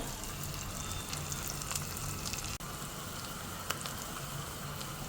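Chilli and onion sizzling steadily in hot oil for a tempering, a dense continuous frying hiss with a few faint clicks and no voices.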